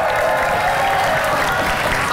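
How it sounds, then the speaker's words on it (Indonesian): Studio audience applause on an Indonesian television quiz show, a dense steady wash of clapping filling the whole stretch with faint crowd noise and some voice mixed underneath. "80 poin, tepuk tangan"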